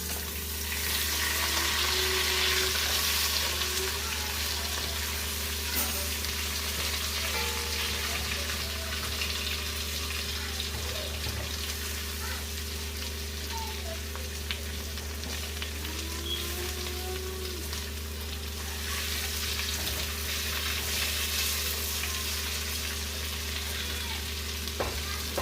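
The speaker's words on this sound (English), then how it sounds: "So I'm going to flip the meat again" Steady sizzling and crackling of oxtail frying in hot oil in a pot, continuous and fairly quiet, with occasional faint clinks in the background.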